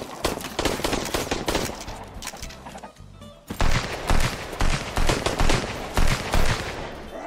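Gunfire in the survival game Sunkenland: loud, close automatic bursts of rapid shots, a brief lull around three seconds, then heavier spaced bursts that thump out in a steady rhythm.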